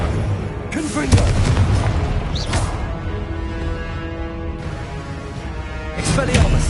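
A Confringo spell blast in Hogwarts Legacy bursts out among booming, explosive combat effects, with heavy low thuds and crashes rolling under dense game sound for several seconds.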